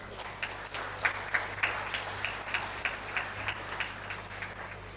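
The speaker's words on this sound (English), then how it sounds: "please play a big and huge round of applause for yourself" Students at a college induction program in Amritsar give a round of applause, sparse and uneven clapping from a modest crowd with distinct individual claps popping out over a steady background hum.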